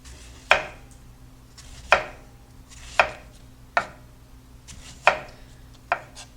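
A knife slices cucumbers on a board in six sharp, evenly spaced chops about a second apart, close and clear over a low background hum.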